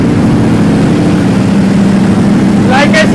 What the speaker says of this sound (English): let's start the V4. This is a free flow Acropovic underbelly exhaust.